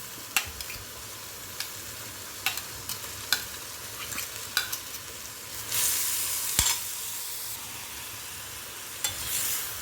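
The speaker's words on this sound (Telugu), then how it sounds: "ఇప్పుడు మనం పచ్చి రొయ్యలు వేసుకుందాం." Raw prawns sizzle in cooked tomato-coriander masala in a pan, a steady fry with scattered scrapes and clicks of stirring and a louder burst of hiss midway, no voices.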